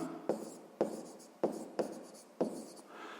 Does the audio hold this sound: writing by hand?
yes